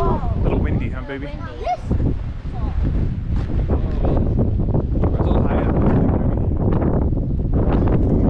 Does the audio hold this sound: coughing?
no